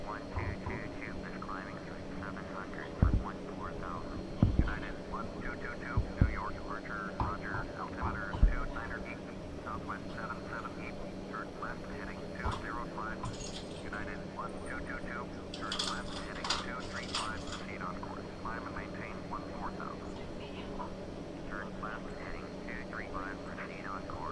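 Steady drone of a light airplane's engine inside a flight simulator game, a low continuous hum running throughout with a few brief clicks and knocks, while a person talks over it.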